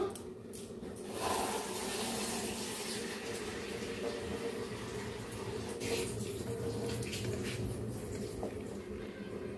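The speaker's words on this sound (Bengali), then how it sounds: "এই যে দেখো, এর মধ্যে আবার জল দিয়ে দিলাম।" Water pours steadily into a bowl that already holds a little oil, a continuous close rushing splash with a slight rise in level after the first second.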